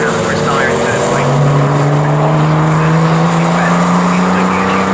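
Porsche Boxster race cars at Snetterton scream past, one engine note rising and holding loud and near above a steady racing drone, with commentary running over it.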